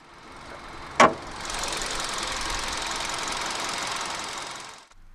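A 2015 Hyundai i30's 1.4-litre naturally aspirated inline-four engine idles steadily and fairly loud, with a sharp click near the start, then the steady hum cuts off abruptly at the end.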